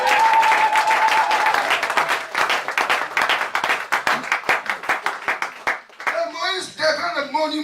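A church congregation at a Friday night prayer vigil bursts into loud, sustained applause with a few cheers, the clapping thinning to scattered claps before a voice carries over the end.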